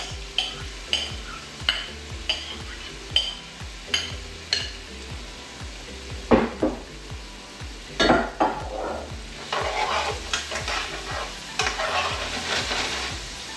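Cabbage and bok choy with saltfish cook over low heat in a pan, with a utensil scraping and stirring in repeated rhythmic strokes over a steady, close sizzle.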